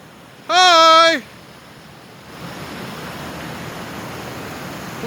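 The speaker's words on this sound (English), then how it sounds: "Twin waterfalls. Stream." Twin waterfalls pour into a stream in a steady, moderate rushing wash that rises after a short high-pitched voice-like tone at the start.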